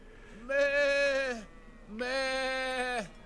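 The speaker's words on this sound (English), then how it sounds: "we're just baying at sheep" Two long, wavering sheep bleats, close and clear with a short pause between them, from the medieval video game Kingdom Come: Deliverance.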